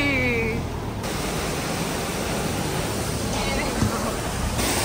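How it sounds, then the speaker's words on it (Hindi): Rushing mountain stream water near Naran in the Kaghan valley, a dense continuous roar heard close, with a faint tone or voice briefly at the start. "पानी देखो कैसे आ रहा है"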